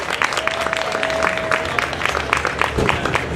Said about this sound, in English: Give a round of applause for Emmanuel.